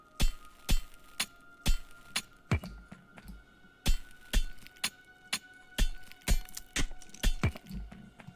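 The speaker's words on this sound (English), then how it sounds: "sorry, my keyboard's a little bit loud." A loud computer keyboard clacks during a Factorio session, sharp separate keystrokes in an uneven rhythm, close and clear, with no talking.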